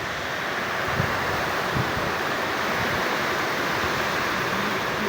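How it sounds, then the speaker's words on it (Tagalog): Strong wind and heavy rain pour down outdoors, a dense, steady roar of wind and rainfall that fills the whole clip with no pauses, with a few low thumps and gusts rising briefly near the start. "Lakas ng hangin mga kabiday."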